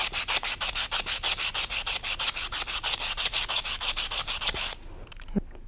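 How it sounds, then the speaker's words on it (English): Sandpaper scrapes a dull metal piece in fast, even back-and-forth strokes, a loud rhythmic rasping that runs for several seconds and then stops, leaving a faint thump. "Let me now scrape off one of the piece and let's see what happens."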